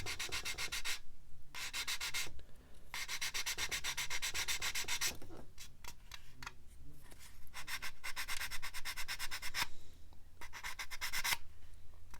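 Sheets of 400-grit sandpaper rub back and forth over the plastic wing of a 1/32 scale Kotare Supermarine Spitfire Mk1a model kit, giving rhythmic, close scratchy strokes in bursts with brief pauses between them.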